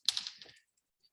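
A short burst of computer keyboard typing, a few quick clicks close to the mic, then silence.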